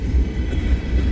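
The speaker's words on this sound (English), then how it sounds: "We got a rock hauler, coal train, carts." A freight coal train with rock hauler cars rolling past close by, a loud, steady low rumble and roar with no distinct clacks.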